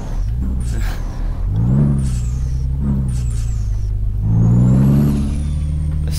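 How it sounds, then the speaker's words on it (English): A Peterbilt 379 truck in Euro Truck Simulator 2 reverses with its engine droning loudly and rising in pitch through gear changes, with whines and a hiss of air between pulls, close and alone. "you're doing 20 miles an hour in reverse in the lorry"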